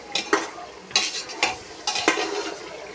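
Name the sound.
meat sautéing in masala and oil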